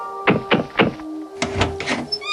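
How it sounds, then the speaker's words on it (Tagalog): Knocking on the door of a small hut: three firm raps in quick succession, then a second cluster of heavier knocks, close and alone with faint tonal music underneath. "Nilapitan niya ito at kumatok."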